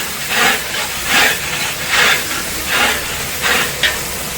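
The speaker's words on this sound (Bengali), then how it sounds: "হলুদের গুঁড়ো দিয়ে নিয়েছে দিয়ে ভালো করে নাড়াচাড়া দিয়ে মশলাটাকে কষিয়ে নিতে হবে" Turmeric powder and spice masala fry in a pan under a constant hiss, with rhythmic swishing stirring strokes about once a second. Nobody speaks.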